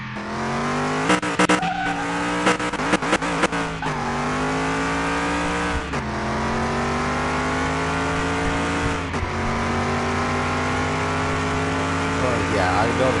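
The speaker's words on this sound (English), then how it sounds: "Yeah, I know the car is ridiculously loud." Loud, roaring supercar engine with twin turbos revving and shifting in Car Mechanic Simulator 2021, with tire squeals and harsh tonal whine, sustained and close throughout.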